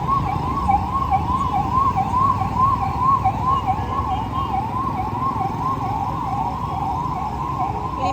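An ambulance siren wails in a steady rising-and-falling cycle on a road in Rajkot, loud and close for the whole stretch over a rumbling bed of traffic noise.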